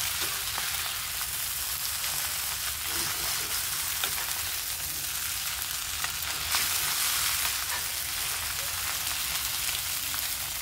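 Noodles, shrimp and spices frying in a pan, a steady close hiss of sizzling oil with faint stirring scrapes throughout and no voices.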